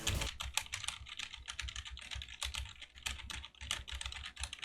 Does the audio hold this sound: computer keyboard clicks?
yes